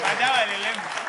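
An audience applauds during a live French talk show, with dense, steady clapping close by and a voice speaking over it throughout the short burst.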